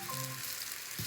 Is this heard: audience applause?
no